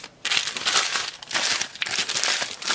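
Plastic bag crinkling and rustling as capacitors are unpacked from bags nested inside other bags, a dense, close crackle that runs nearly continuously after a brief quiet start.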